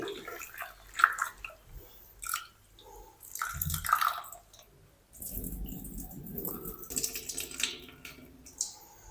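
Raw potatoes are rinsed by hand in a bowl of water over several rounds, with splashing, sloshing and squishy handling in irregular bursts between short pauses.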